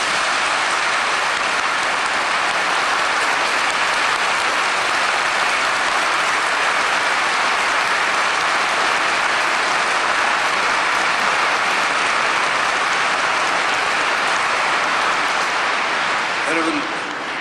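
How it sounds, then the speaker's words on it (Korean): An audience applauds in honour of teacher Lee Hae-chang at a Korean gathering. Dense, loud, unbroken clapping holds steady for the whole stretch like a roar of rain, with no voices standing out. "여러분이 좋으시다면 우리 이해창 선생 앞날을 위해서 박수 한번 보내겠습니다."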